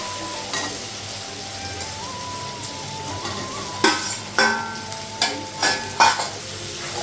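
Water is added to a hot pan of spiced Bengali cooking with cumin and coriander powder, bringing up a steady sizzle. Several sharp bursts of stirring and scraping follow in quick succession near the end.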